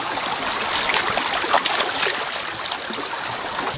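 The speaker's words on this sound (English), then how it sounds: "All right, so this is the creek," Wagner Creek, a back-road stream in Oregon, flows with a continuous close rushing and trickling wash, with small splashes and gurgles throughout and no voices.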